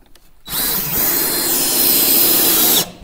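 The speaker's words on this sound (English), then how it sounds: "get my drill up here and put a screw in it" A power drill drives a screw into a tongue-and-groove board on a cabin ceiling, one steady high whirring burst lasting about two seconds, close and loud, then stopping abruptly.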